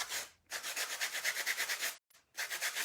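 Rhythmic back-and-forth rasping of a sanding sponge rounding the cut corners of a wooden Dollar Tree sign, close and steady in quick strokes, with two brief pauses between bursts.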